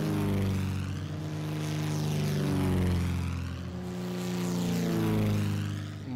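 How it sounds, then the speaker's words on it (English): Propeller engines of dive bomber aircraft in the video game Order of Battle: Pacific during the Pearl Harbor attack, a steady loud droning roar that swells and fades slightly, with no talk. "dive bombers going for the oil structures here"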